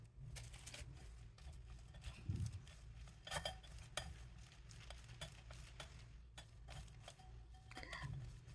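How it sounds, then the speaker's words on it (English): A spoon presses boiled potatoes through a metal strainer, giving quiet, irregular scraping, tapping and clinking of metal against metal, close by with no talking. "With the help of strainer, mashed potatoes."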